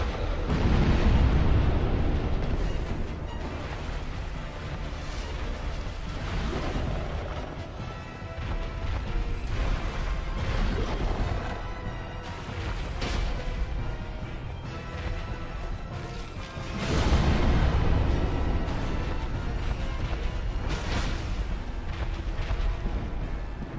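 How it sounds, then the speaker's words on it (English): Heavy booming crashes and rumbling impacts from a Dark Souls boss's area-of-effect attacks, loud and continuous with swelling surges of explosive noise throughout, no voices. "He keeps hitting me with area of effect attacks."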